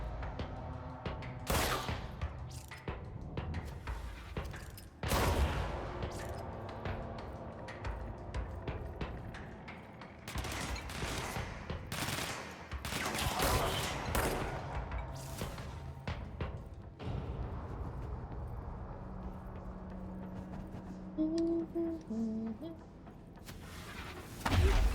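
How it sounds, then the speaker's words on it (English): Enemy gunfire in the video game Control, a scattered series of sharp shots and bursts with thumps between them, some loud and near, others quieter, spread over a long stretch, with a voice talking at times. "Who the fuck is shooting at me?"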